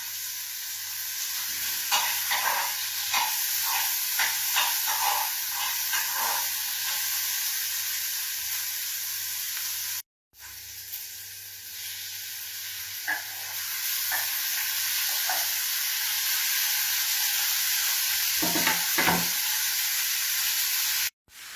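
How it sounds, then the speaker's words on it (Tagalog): Fish sizzles loudly and steadily in a hot frying pan, with occasional stirring scrapes and a brief cut partway through, no talking. "Prito na tayo guys."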